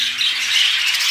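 Colony-bred fancy birds squawk in a dense, harsh, continuous chatter from a flock held close by, with no talking.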